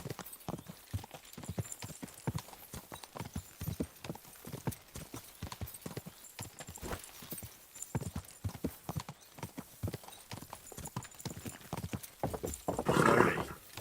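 Horse hooves clip-clop steadily on a road in the video game Kingdom Come Deliverance II, a brisk, even rhythm of sharp close footfalls throughout, ending with a short burst of louder noise near the end.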